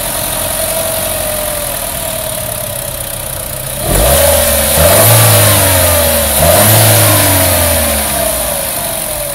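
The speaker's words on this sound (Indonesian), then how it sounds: "Yuk kita dengar suara mesin turbo 1400 cc kayak apa?" A Chevrolet Trax 1400 cc turbo engine cranks and catches after several seconds of steady background hum, then settles to idle and revs up twice in quick, close, loud swells.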